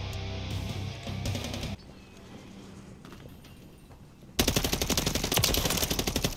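Rapid automatic gunfire in Modern Warfare III, a loud, dense burst of repeated shots in the final two seconds, preceded by quieter game effects and scattered shots.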